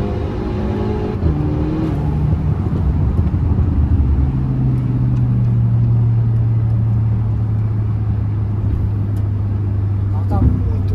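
A modified Volkswagen Jetta engine of over 300 hp drones loudly and steadily on a dynamometer, its pitch settling into a low sustained rev, with a voice talking over it.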